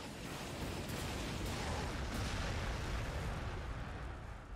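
Continuous battlefield din of artillery gunfire in the strategy video game Warhammer 40000 Sanctus Reach, a dense rumbling wash of blasts and booms holding steady and loud throughout with no voices.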